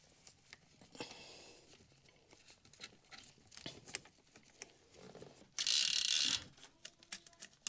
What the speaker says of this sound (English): Put the chain on through the back first.